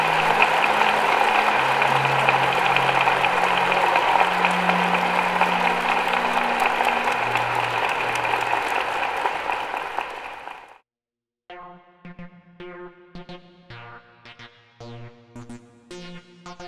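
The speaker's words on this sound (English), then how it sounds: "let's have a round of applause for General Alexander." Sustained audience applause at the DEF CON 20 hacker conference closing a session, dense and steady for about ten seconds before cutting off, followed by quiet electronic music.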